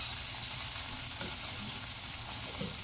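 Steady close sizzle of food browning in a frying pan, with a few soft scrapes as a spatula chops the pieces and works the browned bits off the bottom; no talking.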